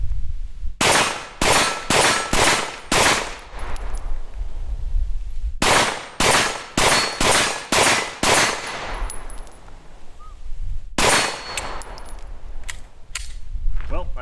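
Loud, close shots from a CZ P-10 F optics-ready pistol, fired in three rapid strings of five or six sharp cracks each, with short pauses between the strings.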